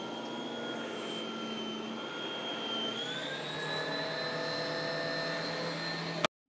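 A Lindhaus LS38 large debris vacuum cleaner runs with a steady whining hum that shifts pitch partway through, then cuts off abruptly at the end.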